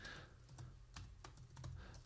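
Keys clatter on a computer keyboard in quick, uneven strokes, quiet and close, with no voices.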